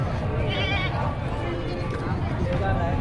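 Goat bleats sound over a busy crowd at a goat market, with lots of people talking nearby throughout.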